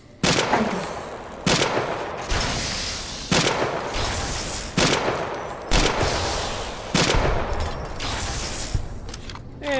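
Gunfire in Fallout New Vegas, a series of about eight loud, sharp single shots spaced roughly a second apart, each followed by a short echoing tail, with no talk.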